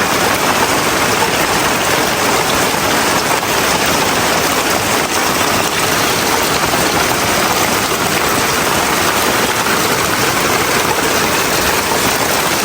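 Heavy rain roars steadily and loudly without a break in hilly countryside, a dense, constant wash of noise with no voices.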